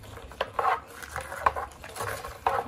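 A spoon stirring an Oreo ice cream mixture in a bowl, with a few separate scraping and clinking strokes spaced in an irregular rhythm, close and fairly quiet.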